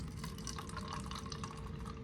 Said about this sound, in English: But I can now pour some poison,